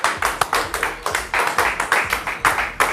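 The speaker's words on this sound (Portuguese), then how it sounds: "Palmas." A studio audience at a televised interview claps in a brisk, fairly even rhythm, each sharp clap distinct and close, continuing for about three seconds with no one speaking.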